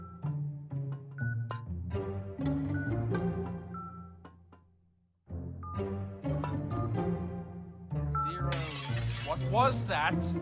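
A ceramic vase shatters in a video game, a bright burst of breaking debris near the end, heard over continuous game music and sound effects.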